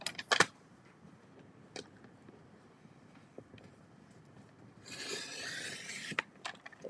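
A paper trimmer takes thin white edges off paper for a card with embossing folders and stencils. Scattered soft clicks and taps lead to a smooth rasping blade slide of about a second, heard up close.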